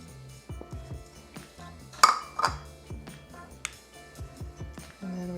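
A small dish used for sowing tiny petunia seeds is being cleaned out, with light clinks, taps and scrapes of its hard surface coming in scattered bursts, close and fairly quiet.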